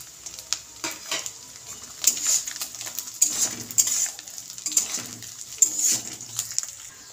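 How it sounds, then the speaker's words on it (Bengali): Cashews and raisins fry with grated coconut in hot oil in a pan, giving a soft sizzle under repeated scraping stirs and light clinks of a spatula against the metal, with no talk. "আমার নারকেল আর কাজু কিশমিশটা ভাজা হয়ে গিয়েছে।"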